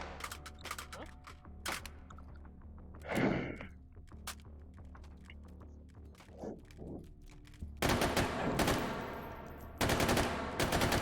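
Bursts of gunfire loaded with incendiary rounds in the VR shooter H3VR, with sharp separate shots and mechanical clicks and clunks between them, then heavy rapid bursts toward the end.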